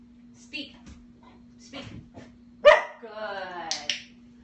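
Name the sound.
dog barking on the command speak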